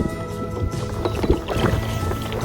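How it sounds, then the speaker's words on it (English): Gusty wind on open water near Rattlesnake Island rumbles and buffets the microphone, with splashing water, rolling waves and a hollow knocking of a small boat nearby. "So it's progressively getting windier and windier."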